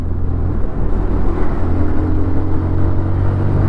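A 2024 TVS Apache RTR 160 2V motorcycle engine running while riding through the gears in rain mode, a steady close droning rumble with a faint whir and no clear revving peaks.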